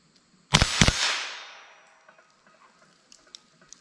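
Two sharp, loud .22 LR rifle shots from Remington Yellow Jacket rounds, fired in quick succession at a 14-yard target, each cracking close by with a short, fading ring afterwards.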